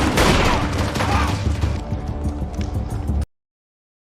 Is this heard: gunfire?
yes